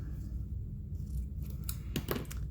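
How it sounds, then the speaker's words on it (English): A few quick, crisp scissor snips close by, cutting ribbon during card making, clustered near the end over a low background hum. "I'm just going to give that a snip with my scissors."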